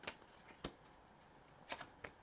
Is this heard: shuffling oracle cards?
yes